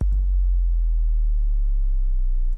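A synthesized sine wave gliding in pitch during an EDM production lesson, a steady low pure tone holding loud for a couple of seconds.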